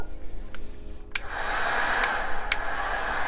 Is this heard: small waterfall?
no